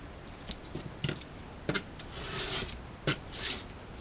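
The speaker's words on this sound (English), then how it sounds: "So I'm just going to need to cut 1/4 inch off of one of these sides." Card paper is cut to size for a handmade gift box: a run of quiet rasping, scraping strokes with a few sharper ticks, close by and with no speech.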